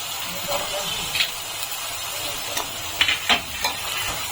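Potatoes tipped into a pan of frying carrots and stirred for sabudana pulao, giving a steady sizzling hiss. Occasional scraping spoon strokes sound through it, and a voice speaks briefly.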